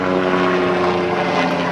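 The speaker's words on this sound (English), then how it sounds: "I'm sorry for the airplanes" Propeller airplanes droning overhead, a steady continuous engine hum that stays fairly loud and even throughout, with no voices.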